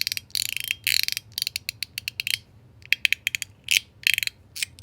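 Clicky ratcheting snaps from a Zirc secret slider fidget toy tuned to standard, sliding back and forth in quick bursts of sharp, close clicks with short pauses between runs.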